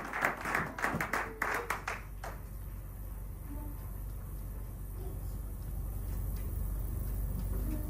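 A church congregation at a Sunday worship service breaks into brief clapping, a dense burst of claps in the first two seconds that fades into low room rumble and murmur.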